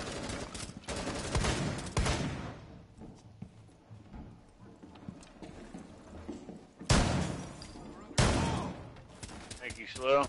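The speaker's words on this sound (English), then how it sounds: "They're shooting from upstairs." Gunfire in Rainbow Six Siege, with loud broadband bursts near the start and again around seven and eight seconds, mixed with game noise and voices talking over the action.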